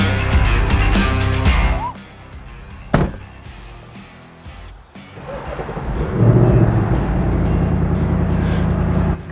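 Getting into a car and setting off on a ride, with door thuds and rustling, then a steady engine rumble and road noise building as the vehicle drives away, with some talk mixed in.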